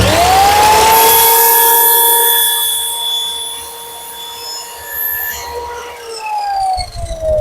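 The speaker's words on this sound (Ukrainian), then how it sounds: "Давайте я торцану, щоб воно було рівненьке." A Procraft PGS217 miter saw, 1400 W with a 210 mm blade, spins up with a loud high whine that holds while trimming wood, then winds down near the end with a brief rattle.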